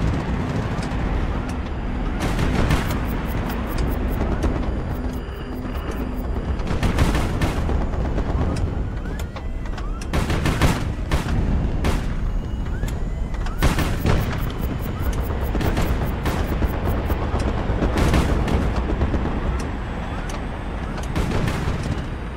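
Rapid ship-gun fire from several guns at once in the naval combat game HighFleet, with dense repeated blasts and booming salvos that keep coming over a constant rumbling battle din.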